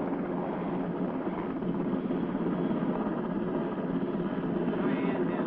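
An AH-56 Cheyenne attack helicopter descends and hovers, its rotor and engine making a steady, dense roar that holds level throughout at a moderate distance.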